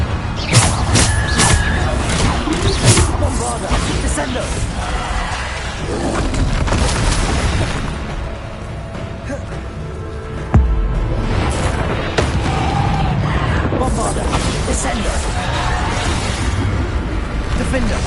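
Bombarda explosion spells in the video game Hogwarts Legacy, a dense barrage of loud booming blasts and bursts through much of the stretch, with game effects and voices mixed in during a heavy battle.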